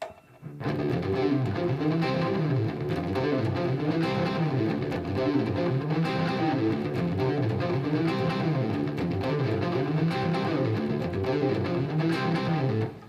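A heavily distorted electric guitar plays a continuous, driving rhythm lick with a loud, thick sustained tone, chugging for about twelve seconds on its own.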